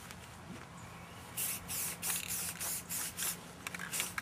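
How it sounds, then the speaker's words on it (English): Spray paint hisses onto an outdoor post lamp fixture in a series of about seven short bursts, each lasting roughly a third of a second, loud and close. "we're just going to call this spray paint."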